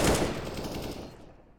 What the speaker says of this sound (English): Picking up an AK. Making sprays into the smoke.